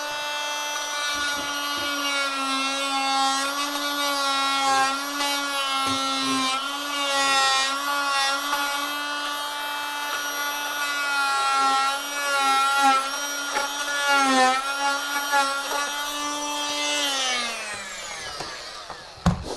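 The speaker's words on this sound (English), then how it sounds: "The leveling shims we're going to cut off with our multi-tool." A high, steady buzzing whine of an oscillating multi-tool cutting through wooden leveling shims, droning for a long stretch before winding down at the end.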